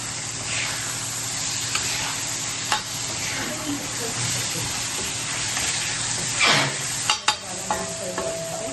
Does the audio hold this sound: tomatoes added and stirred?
yes